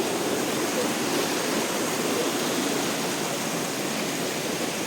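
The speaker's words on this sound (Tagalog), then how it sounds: "Ayun yung bukal, ang lakas oh." A strong mountain spring gushes and splashes near a log cabin in Bongabon, Nueva Ecija, a loud, steady broadband rush of water that fills the whole clip without letting up.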